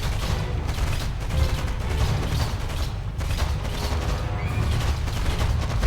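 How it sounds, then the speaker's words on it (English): Jet Tengu jet fire against a cryocopter training target in the Red Alert 3 video game, a dense continuous rattle of rapid gunfire over a heavy low rumble, steady and loud throughout. "order your Jet Tengu to destroy that miserable cryocopter"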